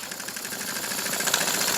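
A Cotswold Heritage Cirrus model beam engine running on steam, a quick, steady chuffing rhythm with a hissy mechanical patter, close and fairly loud throughout.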